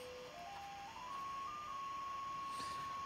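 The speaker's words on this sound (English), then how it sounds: "So there's 10 kilohertz of modulation right there, you can hear it." A Kmoon FY6800 frequency generator produces a steady electronic tone, zero-beating against the WWV 10 MHz time signal. The tone steps upward in pitch at the start, then holds as one pure, continuous whistle over a hiss of radio static.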